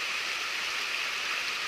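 A mountain stream in a canyon rushes steadily, its dense broadband hiss filling the scene at close range with no pauses or other sounds on top.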